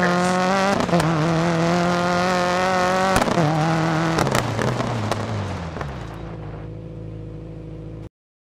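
A rally car in the video game Dirt 4 races toward a jump, its engine holding a loud, steady high-revving tone with sharp clatters and gear shifts, then easing off before stopping abruptly.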